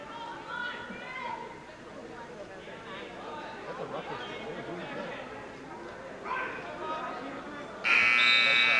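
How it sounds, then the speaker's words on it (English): Loud electronic buzzer ending the third and final round of a 152-pound varsity high school wrestling bout, cutting in sharply near the end over steady gym crowd chatter and commentary. "And there's the buzzer."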